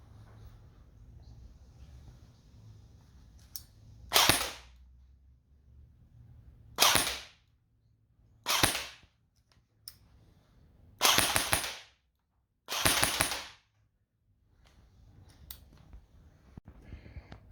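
An airsoft gun fires in about five short bursts spaced a second or two apart, each burst a dense cluster of sharp mechanical cracks with quiet gaps between, heard alone and fairly close.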